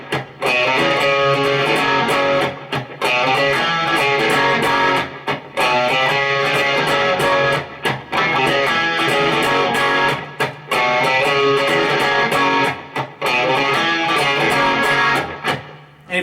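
Sped-up electric guitar riff, played solo as a repeating rhythmic phrase in loud, dense bursts with brief gaps between each pass.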